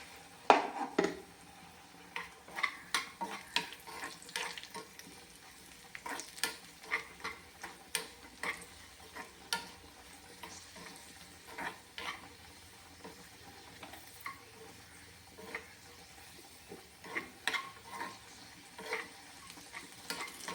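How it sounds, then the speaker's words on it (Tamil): Cashews and raisins fry in ghee for aval kesari, a steady close sizzle broken by frequent sharp clicks and scrapes of a spoon stirring against the pan, with no talking. "முந்திரி பருப்பும் திராட்சையும் வறுபட்டு போச்சு"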